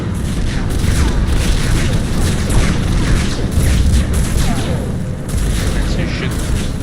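Dense gunfire and booming explosions in the video game Mass Effect 3, a loud continuous barrage of blasts and crackling shots with no pauses throughout.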